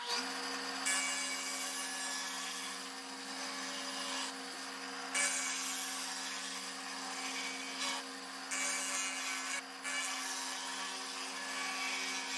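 A safety planer spinning in a drill press at about 2,800 RPM skims the high spots of a wooden board for guitar necks, giving a steady high whine with rough cutting passes.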